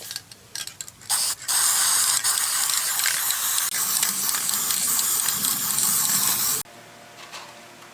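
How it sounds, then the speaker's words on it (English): Dry graphite lubricant sprays onto the chip breaker fingers of a Yates American B244 planer in a steady, loud aerosol hiss lasting several seconds after a few short bursts, then cutting off abruptly. "I'm going to use this dry graphite."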